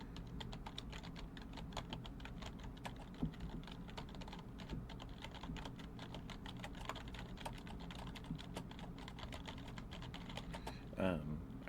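Rapid steady keystrokes clatter on a cheap $20 computer keyboard, soft and close, with a faint low hum underneath and a brief murmur near the end.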